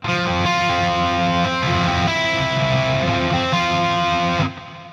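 An electric guitar sustains thick, distorted chords through a Jeff Loomis Devil's Triad pedal with a shimmer effect, loud and continuous for about four seconds before cutting off abruptly into a short decaying tail.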